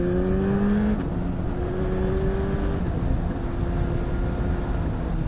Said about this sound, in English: On the way up, it's not the smoothest quick shift on the way up.